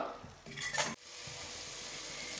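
Chilli powder and spices sautéed in a pan for a chickpea and potato kulambu, a steady sizzle with stirring scrapes and a brief burst of clattering utensil noise near the start, no voices.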